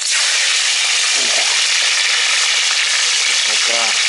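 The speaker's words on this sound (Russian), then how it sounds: "Сколько уже раз я жарю без муки." Fish frying in oil in a pan outdoors, a loud, dense, continuous sizzle filling the clip, with brief faint voice traces near the middle and end.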